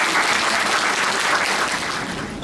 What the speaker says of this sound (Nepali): हामी ताली बजाएर उहाँलाई स्वागत गर्न चाहन्छौँ